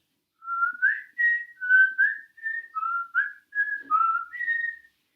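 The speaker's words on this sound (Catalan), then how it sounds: "Després farem la melodia xiulant." A lone person whistles a Catalan folk song melody, ten or so clear sustained notes in a steady phrased line, close and clean against silence.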